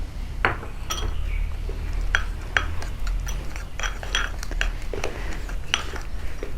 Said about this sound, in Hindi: हमने इसे अच्छे से मिक्स करना है।